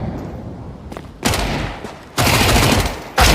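MAC-10 submachine gun fire in Counter-Strike 2, heard as loud, rapid bursts of gunfire, one short burst, then a longer sustained spray, then another burst starting at the very end.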